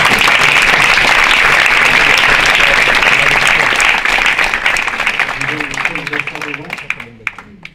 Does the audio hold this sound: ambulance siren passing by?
no